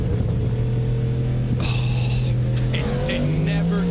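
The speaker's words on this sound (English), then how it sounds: "The bump start as the car pulls away under the electric power and then fires up the ice as it gets ready to rumble once again" An iRacing race car at the Sebring 12 Hour, a Williams Esports entry, pulls away on electric power and then fires its combustion engine, giving a steady close drone that climbs into rising revving tones partway through.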